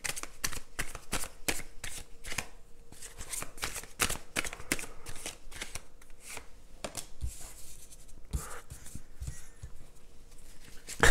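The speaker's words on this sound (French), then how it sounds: "On va prendre quelques cartes de notre ami tarot." A deck of tarot cards is shuffled close by, with quick, crisp riffles and soft flicks repeating in an uneven rhythm against a quiet room.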